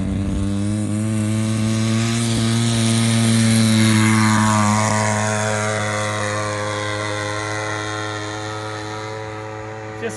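Great Planes Giant Avistar RC plane with a 30cc gas engine flying at just above half throttle, a loud steady buzzing drone that swells slightly as it passes and then gradually fades, with faint voices nearby.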